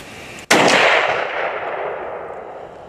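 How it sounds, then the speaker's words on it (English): A single loud rifle gunshot from a first-time shooter on a whitetail deer hunt, a sharp crack followed by a long rolling echo that fades over two seconds outdoors. "Your first time shooting a rifle."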